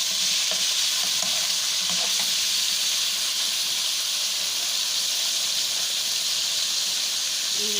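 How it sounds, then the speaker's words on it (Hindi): Garlic and ginger fry in hot oil with a steady, bright sizzle and hiss, a few faint stirring clinks underneath. "थोड़ा सा अदरक लहसुन भुनेगा।"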